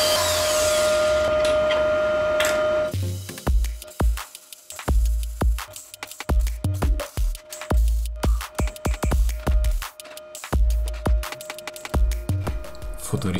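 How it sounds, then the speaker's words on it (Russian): A power tool takes parts off a homemade dual-suspension electric scooter built from hoverboard wheels. It starts as a steady, loud whir for about three seconds, then turns into a busy run of sharp clicks, knocks and short bursts. "теперь быстро откручивать"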